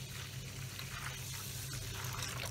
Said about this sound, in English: we're just going to top this up with some warm water